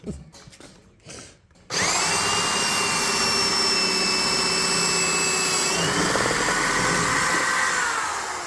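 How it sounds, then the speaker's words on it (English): A power drill whirs steadily and loudly for several seconds while building a birdhouse, after a short burst of rustling, its pitch shifting slightly as it bites in, then tapering near the end. "Oh, you're still drilling?"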